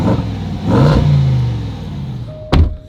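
A Range Rover engine revs nearby, rising in a loud throaty surge, holding briefly, then falling away before a sharp final blip cuts through near the end.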